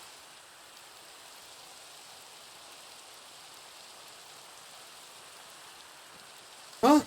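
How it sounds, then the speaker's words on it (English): Steady rain falling in the Minecraft game, a soft, even hiss of drops that holds at a constant low level throughout, ending with a brief louder sound at the very close. "it is officially raining."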